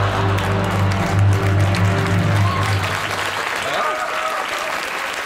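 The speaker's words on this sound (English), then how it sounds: "Audience applauded." Studio audience at a late-night comedy talk show bursts into loud, dense applause, steady clapping that carries on throughout and tapers slightly toward the end.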